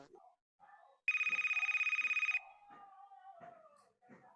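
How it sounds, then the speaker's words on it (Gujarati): A telephone rings with an incoming call in a home, a loud rapid electronic trill lasting about a second, between stretches of quiet talk by household members. "લો મમ્મી તમારા બેનપણી ફોન આવે છે."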